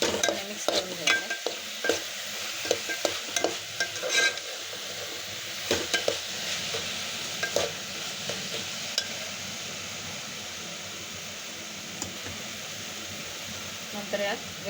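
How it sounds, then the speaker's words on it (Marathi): Homemade ghee and cardamom are stirred in a pan while making ukadiche modak, a soft sizzle under repeated spoon scrapes and clinks that are busiest early, then a quieter steady frying hiss. "पूर्णपणे मिक्स करून घ्यायचं."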